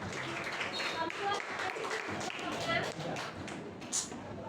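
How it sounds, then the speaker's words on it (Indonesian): Students clap in a classroom during a lesson, a steady patter of many hands rising and falling for several seconds with talking mixed in underneath. "tepuk tangan untuk Dedita."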